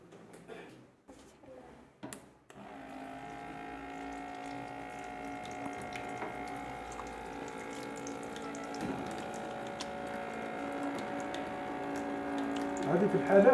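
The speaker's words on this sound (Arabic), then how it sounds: "اغسل يديك بالماء والصابون ونشفيها" Water running from a tap while hands are washed with soap, a steady close stream with splashing that swells toward the end, preceded by brief handling knocks.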